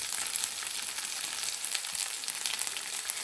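Steady, crackling sizzle of mustard seeds spluttering in hot oil, with dense popping throughout and no voices.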